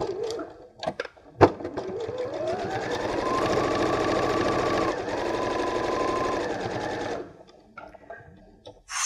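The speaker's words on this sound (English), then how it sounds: "I'm going to sew all the way along this front edge and around the curve to that mark." A sewing machine runs a straight stitch along the front edge and curve of a fabric scissors case, starting after a few clicks, holding a steady whir for about six seconds with a brief dip, then stopping.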